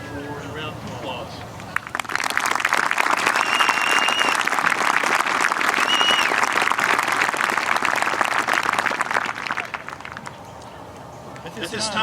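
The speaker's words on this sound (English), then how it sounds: "With that, Dr. Riker, I wish you to stand for a round of applause." A large audience applauds at a 2021 high school graduation ceremony, the clapping swelling quickly into a sustained, dense roar that holds steady for several seconds before tapering off, with faint voices mixed in.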